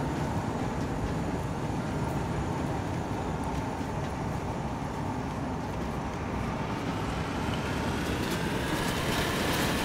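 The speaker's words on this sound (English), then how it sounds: "What's that noise? It's the little train." Train rumbling in the video game Wolfenstein II, a steady, loud rolling and rattling noise that runs continuously without a break, filling the clip with dense low-end rumble.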